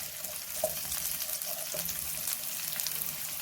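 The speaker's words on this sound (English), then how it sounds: "now that they've changed color slightly, I'm going to add in the chilies" Two green chilies dropped into sliced onions frying in a pan, an okra fry in the making, produce a soft, continuous sizzle with light stirring, fairly quiet and with no voices.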